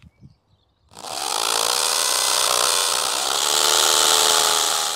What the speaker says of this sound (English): Right, that's the holes drilled.